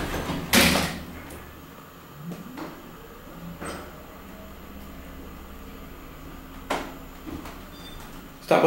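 The old motorized door of a former department store closes with a few sharp knocks and clunks spaced over several seconds, against a quiet low hum.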